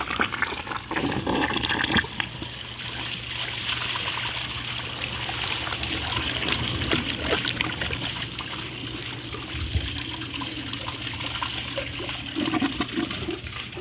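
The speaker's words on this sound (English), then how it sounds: "I just flushed a ceiling panel down the toilet." A toilet flushes with a ground-up ceiling panel in the bowl, giving a sustained rush and gurgle of water that carries on steadily for about fourteen seconds with no talking.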